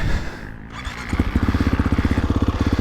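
A 2022 Gas Gas MC350 dirt bike engine fires up after a rough start and settles into a close, loud, rapid pulsing beat, each firing clearly distinct in a steady rhythm.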